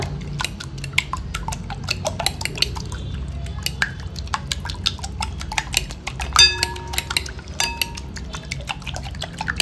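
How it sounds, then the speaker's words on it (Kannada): Eggs are whisked in a bowl for an egg chilli dish, with a quick run of light, irregular clicking taps of utensil against the bowl, close by and moderately loud over a low background hum. "ಚೆನ್ನಾಗಿ ಈ ರೀತಿಯಲ್ಲಿ ಬೀಟ್ ಮಾಡ್ಕೊಳ್ಬೇಕು. ಚೆನ್ನಾಗಿ ಬೀಟ್ ಆಗಿದೆ ಮೊಟ್ಟೆ."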